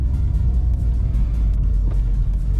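An MG ZR Atomix driving on Scottish back roads toward Stirling, heard from inside as a steady, loud low engine and road rumble with no change in pace.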